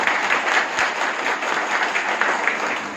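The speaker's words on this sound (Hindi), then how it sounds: "हमारे इस कंपनी के CMD mister Kamal Narayan Sahu sir के लिए एक बार जोरदार ताली" Audience applause at a company training programme, given for the company CMD, Mr Kamal Narayan Sahu; a short, even wash of clapping throughout, moderately loud with no talk over it.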